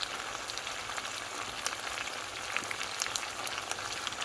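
Fish and potatoes sizzle steadily in hot oil, a dense, continuous crackle scattered with sharp pops, close and fairly loud, with no talk.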